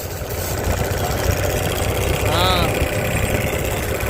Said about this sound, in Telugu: ట్రాక్టర్ ముందుకు సాగింది